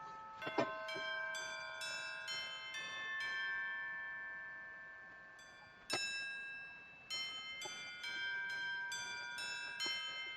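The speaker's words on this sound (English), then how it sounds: "That's a chime." Metal chimes struck a dozen or so times at irregular intervals, each bright strike ringing on and overlapping the next, heard close and clear with no voices over them.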